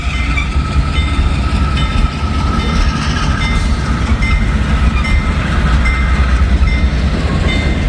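A Norfolk Southern safety train rolls past close by with loud, steady rumbling and wheel clatter, a continuous heavy roar that carries on throughout while drizzle falls.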